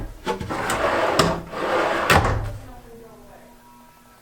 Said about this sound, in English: See how the soft close is actually working now?